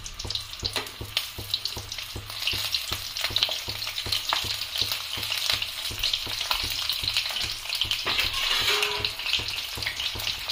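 Besan-stuffed green chillies fry in oil in a kadhai, giving a steady close sizzle with soft clinks and stirring sounds and no talking.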